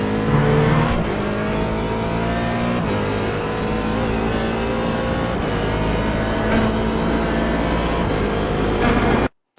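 A Corvette C7 Daytona Prototype race car at Sebring roars loudly at close range, its engine note dropping in sharp steps as it downshifts into second gear, a steady, dense mechanical drone with brief gear-change breaks and no voices.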